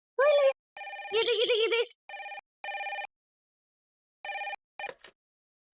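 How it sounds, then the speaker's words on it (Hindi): A telephone rings in repeated electronic bursts with gaps between them, moderately loud indoors, while someone speaks briefly over the early rings. "फोन को भी इस वक्त आना था"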